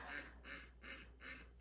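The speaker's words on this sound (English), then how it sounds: "My ladies are getting very loud, so I think it's time for me to go check on the ducks" A small flock of pet ducks quacks loudly in four evenly spaced, nasal calls, close by and clear over a low steady hum.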